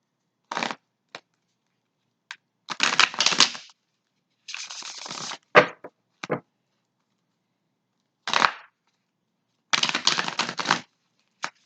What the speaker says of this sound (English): I'm just clearing out the cards